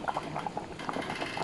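Water bubbling at a steady boil in a cooking pot with boiled bamboo shoots, with soft popping bursts over a continuous hiss, close and fairly quiet.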